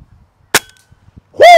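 A single sharp gunshot fired at an invasive iguana cracks loud and close, followed after a pause by a whooping shout.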